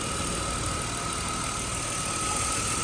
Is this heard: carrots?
no